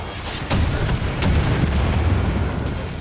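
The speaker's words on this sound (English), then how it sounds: "I just unleash all my rockets on this guy" Rockets unloading in Wolfenstein: The New Order against a mecha enemy, a loud sustained barrage of deep booming blasts with sharp bursts near the start and around one second, rumbling continuously to the end.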